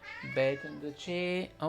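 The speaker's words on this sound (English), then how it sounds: "that's my cat" A pet cat meows several times in quick succession, close by and clearly pitched, while a person talks over and between the calls.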